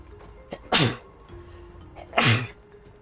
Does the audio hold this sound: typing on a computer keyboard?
no